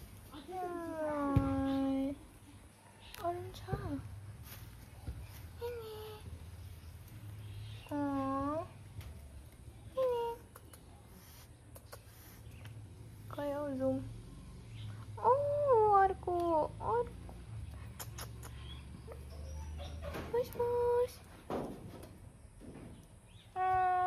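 Repeated loud meows and wails from an abandoned, hungry kitten, several drawn-out cries spaced irregularly across the clip, with low background hum and scattered clatter.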